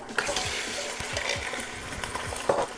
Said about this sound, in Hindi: आधा किलो इसमें हम मटन डाल देंगे